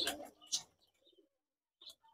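A young pigeon gives a few faint, brief coos and rustles nearby in an otherwise quiet space, separated by short silences.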